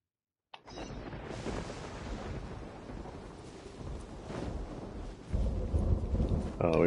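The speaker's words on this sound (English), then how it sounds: "we were trying to get rid of the storm" A thunderstorm rumbles in the video game Genshin Impact, with heavy rain and a low rolling roar that swells louder near the end.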